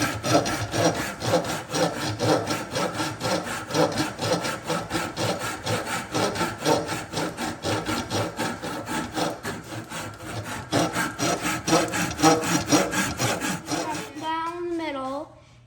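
Hand saw cutting wooden pieces for a homemade chisel handle, a fast steady back-and-forth rasp of strokes for about fourteen seconds before stopping abruptly, with a brief voice at the very end.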